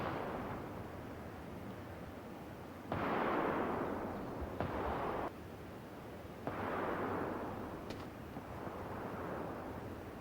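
Vector SMG with compensator firing in PUBG, several rapid bursts of automatic fire heard as muffled, distant rumbling rattles separated by short pauses.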